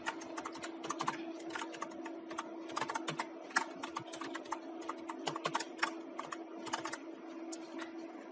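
Fingers tap quickly on a computer keyboard, producing a continuous stream of light, crisp key clicks at an uneven rhythm, close-up and fairly quiet over a faint steady hum.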